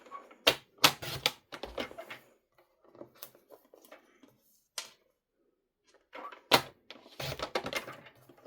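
A paper trimmer slices a 6 cm square from a scrap of cardstock, giving sharp mechanical clacks in quick bursts, a pause, then another run of clicks close by.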